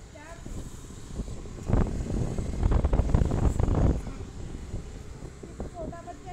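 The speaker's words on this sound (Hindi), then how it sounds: "हवा चल रही है गाइस" Gusting wind buffets a phone microphone outdoors on the way to a temple, swelling into a loud rumbling roar in the middle before easing back to a softer hiss.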